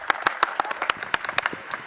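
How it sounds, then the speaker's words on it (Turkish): Applause rises from apartment balconies in Bilecik during a 23 April children's holiday celebration at home, scattered sharp claps ringing out at an irregular pace, fairly close and distinct, with some people audible in the background. "Bilecik'te bulunan apartmanın balkonlarından alkışlar yükseldi."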